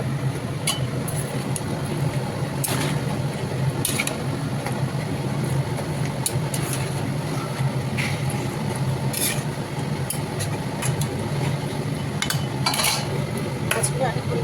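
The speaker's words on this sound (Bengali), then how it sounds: "এই যে ভালো করে এটাকে আরও অনেকক্ষণ ধরে কষতে নেবে, যত কষা হবে তত শুধু ভালো লাগবে।" Malabar spinach curry with pabda and katla fish heads being stir-fried in a pan, with steady sizzling and repeated scraping and clinking of a utensil against the metal over a continuous frying hiss.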